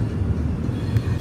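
The Kondaveedu Express, number 17211 from Machilipatnam to Yesvantpur, runs past with a steady low rumbling rattle of wheels and cars, close and continuous.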